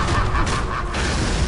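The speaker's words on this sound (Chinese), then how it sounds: "再嚟一个爆炸" Explosion in the action video game Prototype 2, a heavy low rumbling boom that fills the short clip with a thick, continuous roar.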